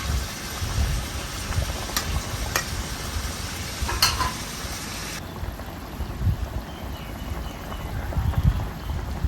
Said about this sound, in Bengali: দেখুন ঝোলটা ভালো করে ফুটছে